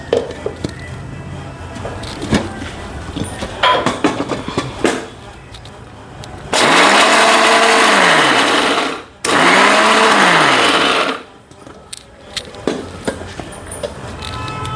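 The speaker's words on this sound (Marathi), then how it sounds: "आता आपण हे सर्व मिक्सरला काढून घेऊ" A mixer grinder grinds roasted poha in two loud, whining bursts of a few seconds each, with the motor pitch sagging and recovering, and rustling handling noises before and after.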